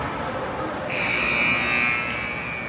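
A steady high-pitched buzz or whistle rises over ice hockey arena crowd noise, holding for about a second before fading back into the murmur.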